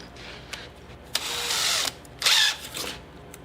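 A power drill whirs in two short bursts, the second one higher and harsher as the bit bites into hard material, with brief clicks before.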